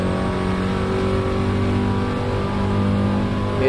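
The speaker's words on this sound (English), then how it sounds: "revving the car" A TCR touring race car engine revs hard and steady under power, a loud, continuous close-up drone with strong harmonic tones and no break.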